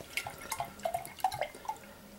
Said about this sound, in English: See how aggressive I can pour it.